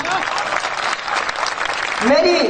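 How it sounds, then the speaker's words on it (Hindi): An audience applauds at a poetry recitation in Bhopal, a dense burst of clapping with a voice speaking over it near the end. "आपकी तालियां मुझ तक पहुंची"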